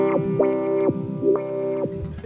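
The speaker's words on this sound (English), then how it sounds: "that's going into the filter so I can control the cutoff frequency" Eurorack synth voice with its filter cutoff swept by a Wavefront module, a sustained buzzy tone whose brightness rises and falls in repeated wah-like sweeps, close and alone.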